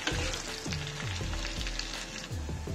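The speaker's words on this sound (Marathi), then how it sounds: "लालसर होईस्तोवर परतून घ्यायचं बारीक गॅसवर।" Finely chopped onion fries on a low flame, a close, continuous sizzle with brief scraping strokes of a spatula repeating every half second or so.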